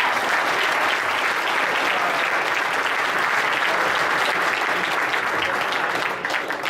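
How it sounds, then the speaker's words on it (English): Sustained applause from a large crowd, steady and dense, holding at full strength before easing slightly at the very end. "let's give him a round of applause"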